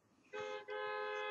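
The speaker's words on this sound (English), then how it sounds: "now I got cars honking outside" Car horns honk outside, one short toot followed by a brief gap and then a long sustained blast, heard clearly from a distance with no talk over them.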